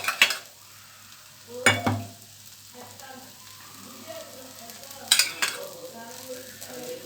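Rava dosa batter on an oiled tawa gives a soft, continuous sizzle, broken by a few sharp scraping or clinking spikes from utensils against the pan.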